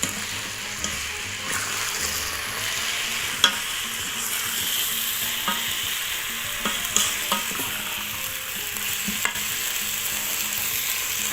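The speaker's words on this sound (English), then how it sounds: "So at this moment we are using the saute program, which allows you to fry" Food sautés in an electric pressure cooker while pilau is being made, giving a steady moderate sizzle throughout with occasional small clicks and taps of stirring.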